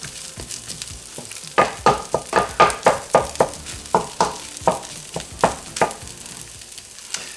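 Egg fried rice with garlic being stir-fried in a pan, a steady sizzle broken by a rapid series of loud, rhythmic scraping and tossing strokes, about a dozen in a row, with no voices.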